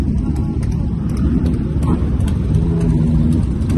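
A Kawasaki ZX-6R 40th anniversary edition fitted with an Arrow full-system exhaust idles and blips nearby, a loud, dense low rumble with slight rising revs toward the end, no speech over it.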